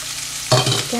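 Chopped green pepper (capsicum) hits hot oil in a pan for a soya chunk Manchurian, setting off a sudden loud sizzle midway with stirring scrapes, after a quieter steady frying hiss.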